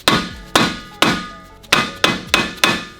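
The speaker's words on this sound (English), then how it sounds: "take a dead blow hammer and actually hit it like this all the way around it" Seven loud, close blows of a dead blow hammer on a BMW Z3 brake rotor, struck at a quick, uneven pace, each leaving a short ringing decay.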